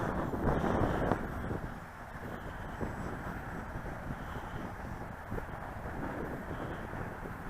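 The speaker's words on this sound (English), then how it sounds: "And the wind is kicking its butt." Strong wind buffeting the microphone at an RC plane flying field at Aaron Bessant Park, a continuous loud rumbling roar that gusts slightly stronger at first and then holds steady.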